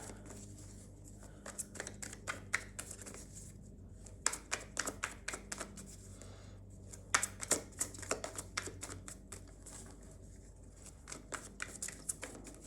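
Tarot cards are shuffled by hand in quick, rippling bursts of crisp riffles and snaps, close and fairly clear, pausing briefly between rounds.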